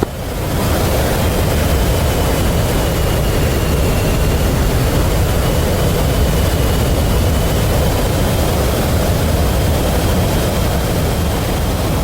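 A Harrier jet in the DCS World flight game lands on a runway, giving a loud, continuous broadband engine roar that holds steady throughout with no talk over it.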